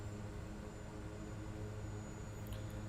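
A bush plane engine holds a steady high idle with 20 degrees of flaps set in a flight video game, a constant, even drone with a broad noisy hum and no change in pitch.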